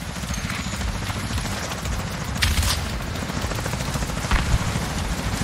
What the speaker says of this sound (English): So there's the friendly helicopter, that's the Black Tusk one.